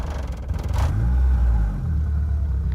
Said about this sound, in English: Here's what happens if I push the throttle. It really rumbles and surges.